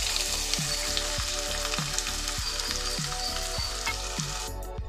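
Chopped onions and a whole head of garlic sizzle loudly and steadily in hot oil for a fish-curry base, a dense continuous frying crackle with no voices.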